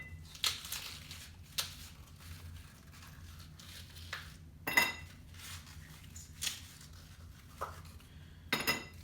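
Ice cubes clink and rattle against a glass while being dropped in for a dirty gin martini, a few sharp, fairly close knocks scattered among quieter handling noises.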